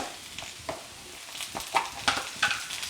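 Diced potatoes frying in a pan, browned after about twelve minutes of cooking, with a soft continuous sizzle and a run of sharp scraping stirs growing busier toward the end, no voices.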